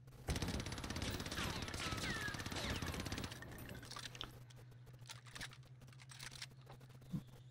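Rapid automatic fire from an AS44 rifle in the Warzone video game, a loud sustained burst for about three seconds, then quieter scattered shots and clicks over a steady low hum.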